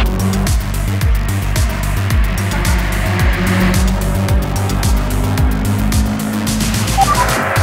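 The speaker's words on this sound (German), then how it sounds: "Gestartet wird rollend mit 43 Autos" Forty-three race cars on a rolling start at Oschersleben roar together at close range, engines droning and revving in a dense, continuous blend with occasional tire squeal.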